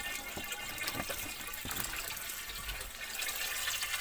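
Water flowing back through the return tub of a filter on a 1000-liter planted aquarium, a steady low trickling and gurgling with a few soft drips, fairly faint and without voices.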